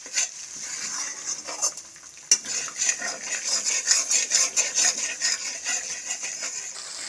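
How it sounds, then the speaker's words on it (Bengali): Katla fish rezala masala with yogurt, stir-fried on low heat for Bengali rezala, a close rhythmic scraping of a spatula in the pan over a gentle sizzle, with one sharp knock early on. "লো হিটে আবারও ভালোভাবে কষিয়ে নেব।"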